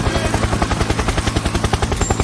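A helicopter in the mobile battle royale game Fight Night Battle Royale drones loud and near, its rotor beating in a fast, even, unbroken chop with no voices over it.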